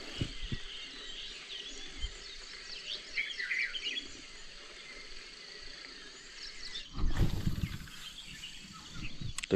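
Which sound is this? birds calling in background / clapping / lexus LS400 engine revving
birds calling in background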